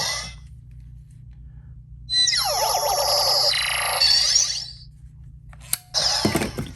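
Cancellation sound effect from the video game B-Commander: a bright sweeping electronic burst lasting a couple of seconds, followed after a short gap by another sharp synthetic blip, over a low steady hum.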